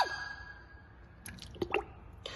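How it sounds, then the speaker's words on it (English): A SHYSKY DC50F-24150S 24V DC 80W micro water pump runs submerged in water with a faint steady whine, joined by small drips and splashes near the end. "we place this pump back to water to see its working performance again in normal status"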